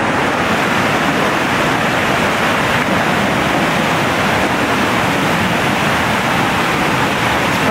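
Floodwater from Tropical Storm Lee rushes in a loud, steady roar that fills the whole stretch close by, with no voices.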